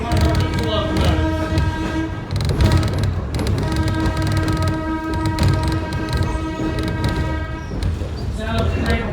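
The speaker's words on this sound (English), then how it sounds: "Sound of the train horn is nice and glorious." A diesel locomotive horn sounds on a heritage museum train ride near a grade crossing, blaring loud and sustained with several chord blasts over continuous rail rumble and wheel noise from aboard the train, with someone talking.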